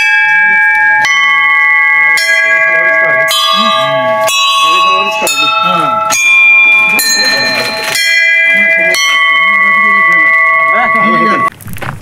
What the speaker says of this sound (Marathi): तुम्हाला घंट्याचा आवाज कसा येतोय ते आवर्जून ऐका